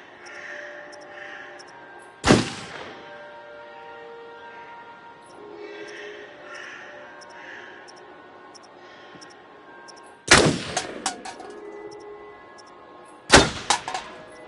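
Three sharp, loud gunshots ring out at a video game shooting range, spaced several seconds apart, each with a short ringing tail over a steady ambient backdrop.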